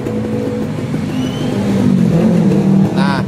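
A Kawasaki Ninja RR motorcycle engine idles and then revs up, a rising mechanical drone close by with brief voice-like sounds near the end.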